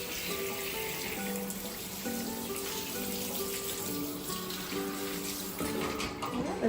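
Running water splashes steadily from a tap or sprayer onto a dog being soaked down during a bath, a constant close wash with faint clinks near the end.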